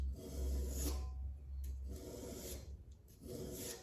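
A file rasps back and forth across the gut hook edge of a knife blade in steady, close passes, each stroke a gritty scrape with brief pauses between, quiet and alone.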